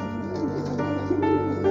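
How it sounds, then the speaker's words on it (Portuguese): Flock of pigeons cooing, soft overlapping throaty coos and burbles at close range, steady and continuous with faint background hum. "A manada de pombo, a manada."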